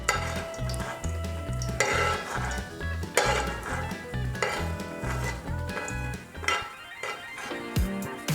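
A utensil scoops crispy bacon from a pan of sizzling bacon fat, with steady frying crackle and repeated metallic scrapes and clinks against the pan, close and continuous, with no talk.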